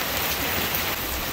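Light rain falls steadily as a dense, even hiss of drops on surfaces, close and continuous with no voices.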